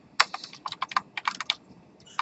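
Computer keyboard keys clack in quick, uneven bursts of typing for copy and paste, close and clear with no talking.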